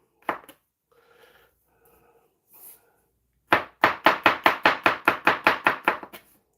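A very sharp professional knife chops ingredients for Irish stew on a board in a rapid, even run of about a dozen crisp close strikes, after a few scattered taps and a quiet lull.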